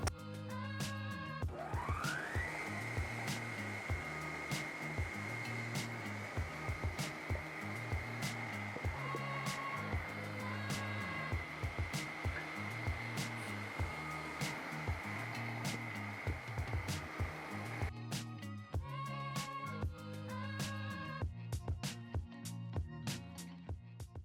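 An electric hand mixer whirs steadily through a thick avocado ranch dressing, a loud, even motor drone running for most of the clip before cutting off, with clattering bowl and utensil noise at the start and end.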